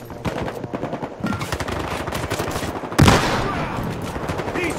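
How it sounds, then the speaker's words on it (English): Automatic gunfire in the video game Battlefield Hardline rattles in rapid, sustained bursts, loud and close, with a sharp heavier blast near the middle and dense overlapping shots continuing after it. "Keep firing! I gotta load up!"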